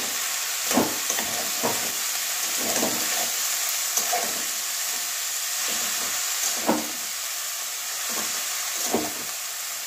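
Katla fish head and cabbage curry stirred in a sizzling pan, a spatula scraping in repeated strokes over a steady frying hiss, close and alone without talk.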